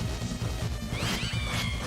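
Cats meow and caterwaul in the Deltarune video game, short pitched cries over busy battle sound effects and music, brief and fairly faint.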